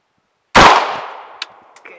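A single sharp M4 sniper rifle shot on an outdoor training range, loud and close after a moment of silence, with a long fading echo and faint metallic pings of the target being hit.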